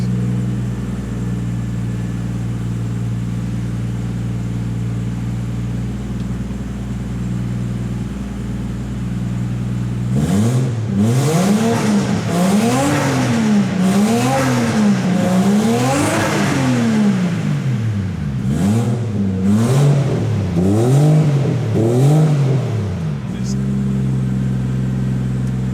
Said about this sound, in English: It's got that 1JZ sound, you know the one.